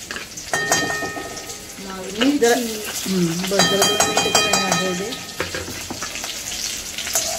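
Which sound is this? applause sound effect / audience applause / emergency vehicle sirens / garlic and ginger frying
garlic and ginger frying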